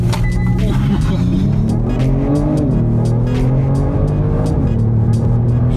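Kia Stinger accelerating hard, its engine note rising steadily through the gears with loud, close exhaust drone and brief pitch drops at shifts; people talk over the engine throughout.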